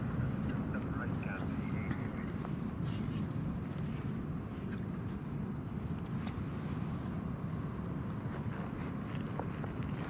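An airliner at Hong Kong Airport, a low, broad engine roar holding steady and fairly distant, while air traffic control radio chatter and voices run over it.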